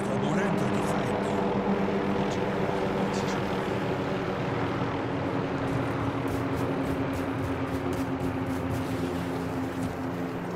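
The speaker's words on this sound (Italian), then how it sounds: "L'elicottero di Connie ha scaricato qualche nemico." A helicopter in the Call of Duty: Modern Warfare 3 video game drones with a steady low rotor hum and engine whine, held constant and moderately loud throughout, amid foggy, wintry combat ambience.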